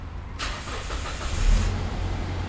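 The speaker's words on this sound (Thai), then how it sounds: "ขออนุญาตสตาร์ทรถเลยแล้วกันนะครับ" A 2014 Toyota Fortuner 2.7 LPG starter cranks briefly, then the engine catches with a rev and settles into a low, steady idle.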